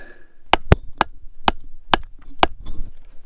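Six sharp cracks ring out at steady intervals, like hard strikes splitting rock, as a large rock cracks and breaks loose while being lifted, over a quiet outdoor background with no talking.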